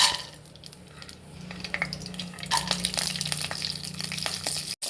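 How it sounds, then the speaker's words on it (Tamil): Cardamom pods, cinnamon stick, cloves and a handful of cashews sautéed in a spoonful of oil: a soft, steady sizzle with light stirring scrapes in a pan, close by, no talk. "போட்டு நல்லா வதக்கிக்கலாம். ஒரு 20 செகண்ட்க்கு வதக்கிக்கலாம்."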